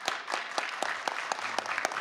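Audience at a mayoral debate held at Massasoit applauds, a brief burst of scattered hand claps with distinct individual slaps, fairly faint and distant.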